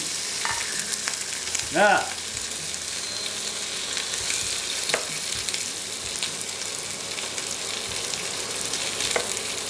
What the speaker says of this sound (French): Je mets mes deux œufs dessus.